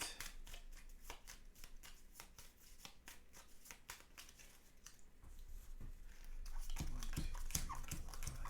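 A deck of playing cards for a board game, monster cards and acolytes, is shuffled in a steady run of quick riffling flicks that grows into a denser, louder rush near the end, with no voices.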